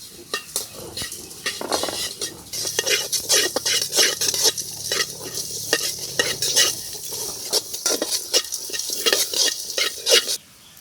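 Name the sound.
dry-roasting chillies in a pan with stirring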